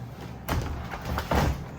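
A hotel room door at a Turks and Caicos resort swings shut with a sharp, close thud, followed by soft rattling of the latch and handle in a quiet room.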